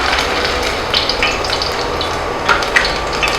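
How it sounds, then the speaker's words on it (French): A small bit of onion dropped into hot oil to test its temperature gives a lively, close sizzle with bubbling crackles and occasional louder spits over a few seconds. "Je vais venir vérifier la température de l'huile avec juste un peu d'oignon."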